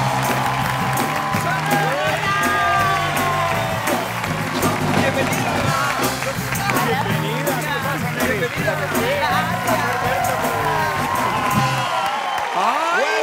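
A television talk-show studio audience applauds and cheers loudly for two arriving guests, a dense continuous wash of clapping and whoops lasting throughout, with a host's voice calling out over the crowd.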